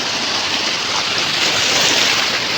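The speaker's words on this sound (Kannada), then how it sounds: "ಈ ಕಡೆಯಿಂದ ಅಲೆ ಜಾಸ್ತಿ ಬರ್ತಾ ಇದೆ, ಆ ಕಡೆಯಿಂದ ಕಡಿಮೆ ಇದೆ, ಬಟ್ ಆ ಕಡೆಯಿಂದ ಅಲೆ ಬರ್ತಾ ಇದೆ ಆಪೋಸಿಟ್ ಡೈರೆಕ್ಷನಲ್ಲಿ" Sea waves roll in from both sides at Dhanushkodi near Rameshwaram, a dense, steady roar of surf mixed with wind buffeting the microphone, loud and unbroken with no voices.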